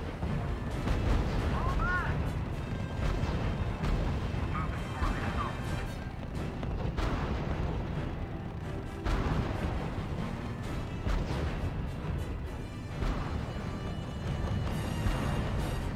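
Artillery fire in the wargame RUSE, with repeated booms and crashing blasts layered over a dense continuous battle rumble, while voices speak over it.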